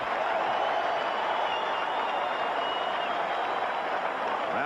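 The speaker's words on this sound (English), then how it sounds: "Round of applause for Dwight Gooden as he comes up now with 2 out" Crowd at a 1986 National League Championship Series baseball game at Shea Stadium applauding Dwight Gooden as he comes to bat with two out, a steady, broad wash of clapping and crowd noise throughout.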